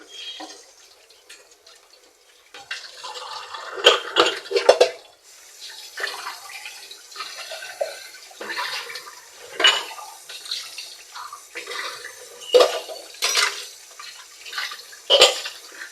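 Dishes washed under running tap water in a home kitchen, with steady splashing flow broken by irregular clatters and knocks of pots and plates, close and fairly loud, no talking.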